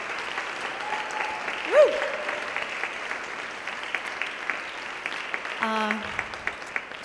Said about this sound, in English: let's have another round of applause for Circle Rivera Dance Theater